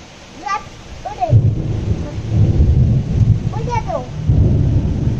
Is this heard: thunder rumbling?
yes